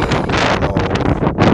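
Steady wind blowing across a microphone beside a calm sea, a broad continuous rush that swells and dips briefly, with no voices.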